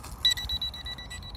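A Xiaomi Mijia M6 drone emits a rapid series of short, high-pitched beeps in steady succession during obstacle avoidance, close and clear over a quiet background.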